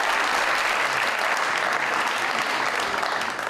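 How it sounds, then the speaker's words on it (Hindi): Studio audience applause on a Pakistani TV talk show, a dense, steady wash of many hands clapping at close range that holds for several seconds with no talk. "तालियां आनी चाहिए इसके लिए"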